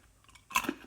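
A short, close crunch of someone chewing crunchy roasted chickpeas, a quiet lead-in followed by a louder burst of bites.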